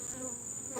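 Honeybees buzz steadily around an open, active hive during honey harvesting, a close, continuous insect drone filling the whole short moment.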